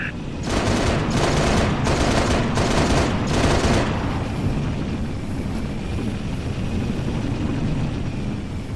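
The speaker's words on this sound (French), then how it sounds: "Attention au tir ennemi." Enemy gunfire in the Halo Reach video game: five loud, rapid bursts of shots in the first few seconds, followed by a steady rumbling battlefield background with no further shots.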